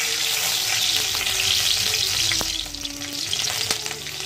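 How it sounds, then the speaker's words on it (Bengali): Chopped onions fry in hot oil in a wok with a loud, close, continuous sizzle. Stirring scrapes come in short strokes and no one speaks. "পেঁয়াজ কুচিগুলো দিয়ে দিলাম"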